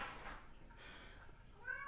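A domestic cat gives one short, faint meow near the end, rising above a low background hum.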